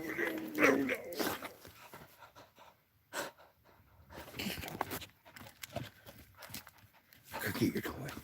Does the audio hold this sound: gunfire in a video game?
no